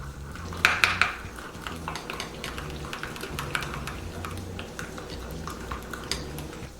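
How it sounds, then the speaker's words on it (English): Roasted cauliflower being tossed and stirred with a utensil in a bowl, repeated clinks and scrapes of metal against the dish in an irregular rhythm, close and moderately loud. "And then you just mix it all together."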